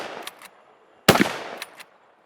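Rifle shots fired at a running boar target on a shooting range, one faint distant crack followed by a loud sharp report with a brief echo and a quieter shot after.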